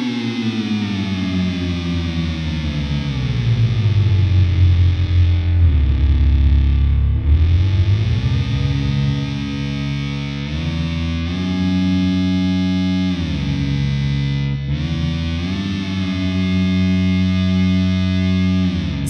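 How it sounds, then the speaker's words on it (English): Spectral Eye synthesizer routed through the JamUp effects app, giving a loud, continuous distorted tone with gliding, shifting pitches, a chorused, echoing texture and no pauses, with no voices. "Here's the Spectral Eye synthesizer through JamUp."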